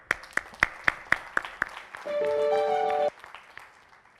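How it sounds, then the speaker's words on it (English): Audience at an eye-care award ceremony gives a short round of applause for a humanitarian award recipient, heard as a string of distinct, evenly spaced claps followed by a brief sustained tone and a quiet tail. "A round of applause for them."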